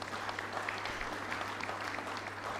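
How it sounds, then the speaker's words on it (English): An audience at a legal awards ceremony applauds, sustained even clapping filling the whole moment over a low constant hum. "So again, give them a round of applause."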